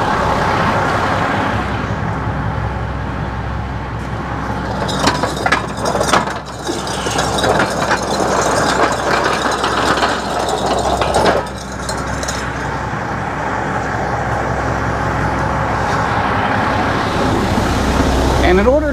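Jeep TJ rolling out of a garage, its engine running steadily throughout with clanks and mechanical rattles partway through, close by, with a person talking at times over it.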